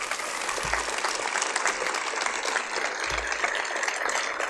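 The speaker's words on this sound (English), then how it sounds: "please join me in a round of applause for them" An audience at a film screening applauding the producers, a dense, loud, continuous wash of clapping from a full room that holds steady throughout without pause.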